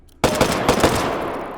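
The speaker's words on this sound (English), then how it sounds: "our futuristic main combat rifle that fires 8x50 millimeter Lebel" A futuristic main combat rifle chambered in 8x50mm Lebel fires in the H3VR virtual-reality shooter: a rapid burst of loud, punchy gunshots that starts abruptly, with several sharp cracks close together and a ringing tail.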